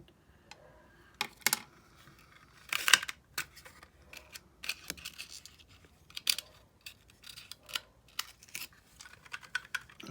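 A handheld paper punch works through a shape with scattered sharp clicks and crunches in irregular bursts, close by and otherwise quiet.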